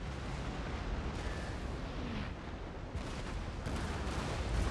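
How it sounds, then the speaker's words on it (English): Ship cannons in Empire: Total War fire in a dense, continuous rumbling barrage, booming shots blending into a heavy roar with a few sharper surges, no talking. "there's a lot going on with all the cannon shots going all over the place"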